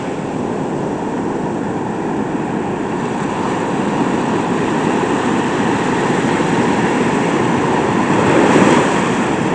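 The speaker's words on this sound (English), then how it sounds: "Some pretty big waves out there." Big ocean waves roll and crash in a loud, continuous roar of surf, a dense steady wash that swells slightly near the end, with no voices.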